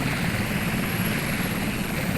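A steady, loud helicopter rotor and engine drone from the naval combat game Sea Power, continuous and unchanging with no talk.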